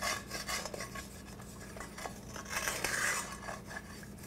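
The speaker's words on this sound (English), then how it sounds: "stir until it makes a little gravy for you to saute your vegetables in" A spoon stirs and scrapes against a pan as water is mixed in to make gravy for sautéing vegetables for Italian sausage subs, with clinks and faint sizzling close by and no voices.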